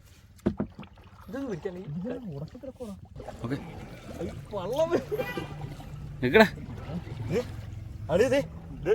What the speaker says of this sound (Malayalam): വള്ളം മുങ്ങി